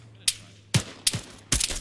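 Gunfire in the Arma 3 military video game: four sharp, loud shots spaced irregularly over two seconds, each with a short crack and brief low echo, heard without talk.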